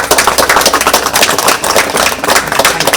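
Audience clapping at a temple homam ceremony and dining hall inauguration, a lively, loud burst of many hands applauding together with an uneven, rapid rhythm for a few seconds.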